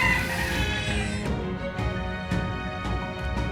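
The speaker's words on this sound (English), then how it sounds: "Is this one of the strange birds we heard about?" Squawking cries from a strange bird monster in the fantasy video game Metaphor Re:Fantazio, a few loud harsh calls repeating over a dense, continuous game soundscape with no talking.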